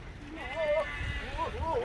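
Goats on a goat farm in Dera Ghazi Khan bleat close by, with two or three wavering, drawn-out calls and a low murmur beneath them.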